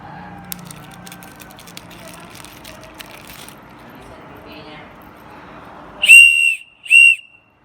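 Black survival whistle, new and still sealed, blown in two loud, shrill blasts near the end, after a stretch of quiet handling and background noise.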